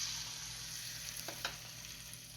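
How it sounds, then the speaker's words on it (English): A little egg yolk dropped into hot butter in a pan on a barbecue for a heat test sizzles steadily and close. A couple of faint pops and crackles break through near the middle. "we just take a little bit of the egg yolk and test it"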